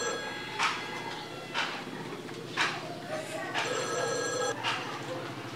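A telephone rings in repeated electronic trills, about five evenly spaced rings at close range, with a voice talking between them before the call is answered.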